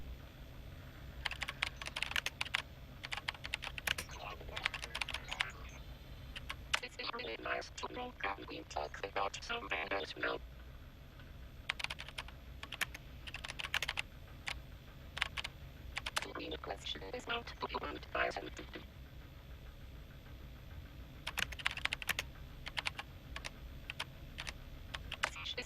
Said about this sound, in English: Okay, so I'm actually typing,